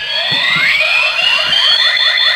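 A Kamen Rider Kabuto Zector toy belt plays its transformation effect: rising electronic tones sweep upward over a steady loud synth tone, with rhythmic low thumps pulsing underneath for about two seconds, no voices.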